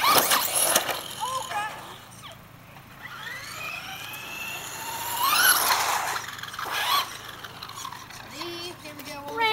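A radio-controlled toy car drives around, its small motor whining and rising and falling in pitch with sharp squealing passes, while people talk over it.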